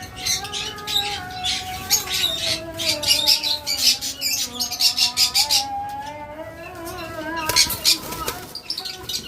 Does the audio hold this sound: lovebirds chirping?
yes